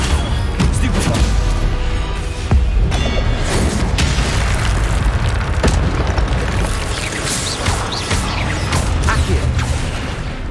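Spell-casting combat in Hogwarts Legacy, a dense continuous barrage of magical booms, crashes and whooshes as the Stupefy stun spell and others fire in rapid succession, loud throughout.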